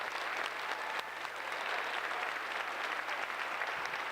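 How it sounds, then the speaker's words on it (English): A large audience at a high school senior awards ceremony claps in a sustained, dense roar of applause that holds steady for several seconds and fills the hall. "So let's have another big round of applause for everyone."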